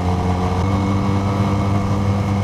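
Benelli Patagonian Eagle Motobi 250 motorcycle roaring steadily in second gear at held revs, a loud close continuous engine drone with no talking.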